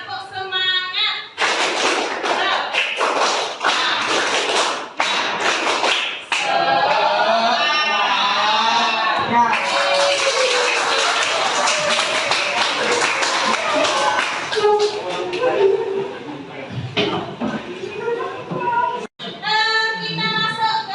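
A group claps out a rhythmic spirit clap at an education workshop, sharp in-unison slaps in bursts of patterned beats, loud and close, with voices calling out between the bursts.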